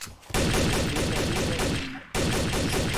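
Rapid bursts of gunfire in a Trouble in Terrorist Town match, players shooting at pigs: dense, loud automatic volleys that pause briefly and then resume.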